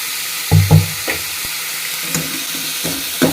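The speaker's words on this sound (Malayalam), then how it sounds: "നന്നായി ഒന്ന് വാട്ടിയെടുക്കണം ഉള്ളി." Sliced onions fry in hot ghee for rice with a little salt: a steady close sizzle broken by a few soft knocks and stirring clatters, with no voices.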